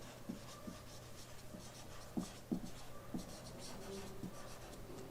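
Marker or chalk strokes on a classroom board spelling out a word, a series of short dry scratches and taps in uneven rhythm against a quiet room.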